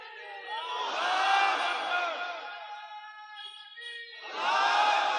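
A large crowd at a sermon gathering roars takbir in unison. A long loud chant swells and fades, a single voice calls in the lull, and the crowd answers again in another loud shout.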